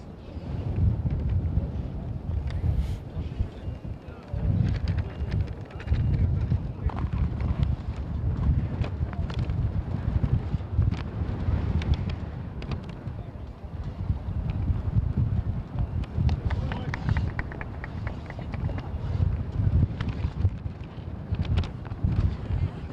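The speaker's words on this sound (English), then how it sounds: "it is quite gusty today" Gusty wind buffets the microphone at a football stadium before a Toronto FC match, a continuous rumbling roar that rises and falls in loud bursts with faint crowd murmur beneath.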